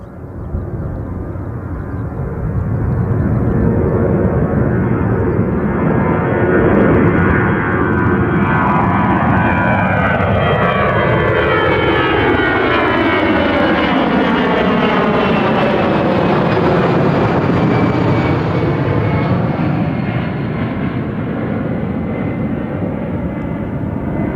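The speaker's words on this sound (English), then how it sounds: "There is actually a departure going out first." An airliner departs London Gatwick Airport, its loud engine roar swelling and sweeping in pitch as it climbs past, sustained and close, with no talk.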